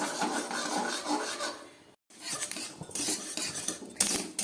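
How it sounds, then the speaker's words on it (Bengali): Sesame seeds frying in ghee in a pan for a Poush Sankranti sweet, stirred steadily with a metal spoon: continuous scraping and sizzling rattle, close and moderately loud, broken by one brief pause. "তিলটাকে আমি একটু ঘি দিয়ে খুব ভালো করে ভেজে নিচ্ছি"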